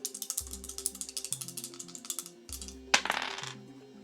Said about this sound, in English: I'm actually gonna roll these 2 dice.